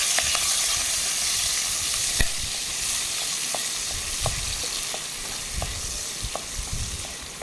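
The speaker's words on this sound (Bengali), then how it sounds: "তো আমার তেল গরম হয়ে গেছে, এবার আমি দিয়ে দেবো চিংড়ি মাছগুলো। আমি এবার ভেজে নেব।" Prawns fry in hot oil with a loud, steady sizzle and crackle, with occasional soft stirring taps and clicks in the pan throughout.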